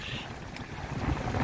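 Sailboat cutting into the wind on the Atlantic coast off New Jersey, with steady wind buffeting the microphone over rushing water and waves against the hull, loud and continuous.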